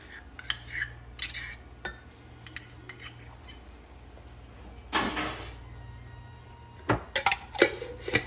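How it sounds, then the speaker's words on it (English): A small spoon scrapes and taps inside a measuring cup during coleslaw prep in a kitchen, giving scattered metallic clinks and a longer scrape, quiet against a low background hum. "I got a little spoon here to get that all out."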